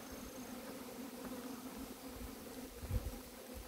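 Hornets buzz nearby in a low, steady drone, with a louder close pass near the end.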